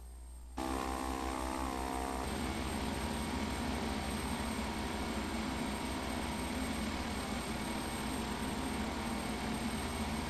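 An airplane sits on runway 6 ready for takeoff, its engine giving a steady, loud drone that starts abruptly and holds level throughout with no breaks.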